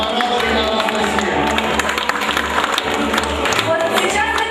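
Steady, dense audience applause at a couple-of-the-year award ceremony, continuous clapping filling the hall without pause as the cup is presented.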